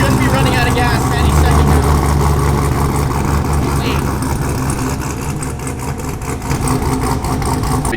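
A cammed sixth-generation Camaro V8 with a large supercharger runs loud and close, its steady drone faltering and surging as the engine sputters toward stalling while voices talk over it.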